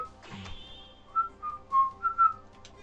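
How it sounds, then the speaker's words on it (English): A person whistles a short tune from a Mega Man X5 game, a few clear, close melodic notes rising and held, with soft game sounds quietly underneath. "I'm whistling that terribly."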